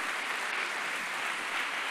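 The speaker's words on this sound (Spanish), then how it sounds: "Denle un fuerte pero fuerte aplauso a Jesús" Applause for Jesus from a church congregation during a Sunday sermon: dense, steady clapping from many hands, continuous and even throughout, with no talking over it.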